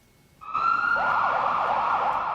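An ambulance siren in Victoria starts up and wails steadily with a rising and falling tone, loud and close, with no talking over it.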